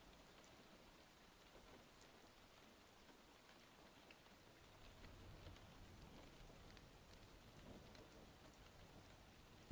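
Rain ambience: a faint, steady hiss of rainfall with scattered drops, growing slightly louder partway through and continuing without a break, no voices.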